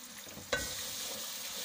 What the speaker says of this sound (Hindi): बस अब इसकी भुनाई करेंगे।